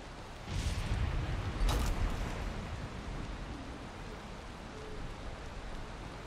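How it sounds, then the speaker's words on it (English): A rain storm in the Valheim video game, with steady wide hissing rain and a brief louder rumbling surge near the start before it settles into an even downpour. "It's always raining and overcast. Sounds like a big ass storm is coming."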